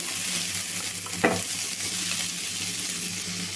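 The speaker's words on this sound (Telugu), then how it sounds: "ఆల్రెడీ కొంచెం ఆయిల్ ఉందండి ఒక హాఫ్ స్పూన్ వరకు అయితే ఆయిల్ వేసుకుందాము ఉల్లిపాయలు వేయించుకోవడానికి" Onions sizzle in a little oil in a pan, giving a steady close hiss with one sharp scrape or clink midway and no talk.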